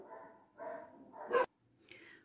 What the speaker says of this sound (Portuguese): Eita, os cachorros começaram a latir.